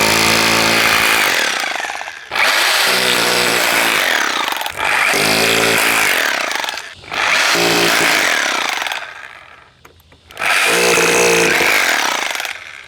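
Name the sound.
power drill drilling into mortar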